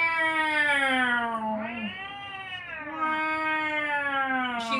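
A voice imitates a rescued house cat's drawn-out meow that sounds like "wow," repeated in two long wavering yowls, close and loud with no other talking.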